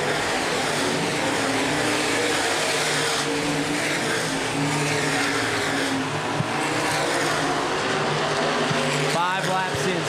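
Open-wheel modified race cars roar around a speedway in a 2012 feature race at Angola Motorsport Speedway, a continuous loud, buzzing engine drone with a faint pass-by swell near the end, under an announcer's talk.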